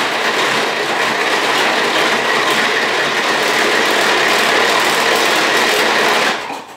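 A Tupperware hand-crank whipper beats heavy cream into chantilly at its fastest setting, a loud, steady whirring rattle close by that runs unbroken and then stops abruptly.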